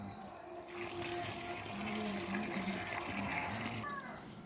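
Steady rushing water pours and gushes continuously at moderate volume, with faint voices and a low hum in the background.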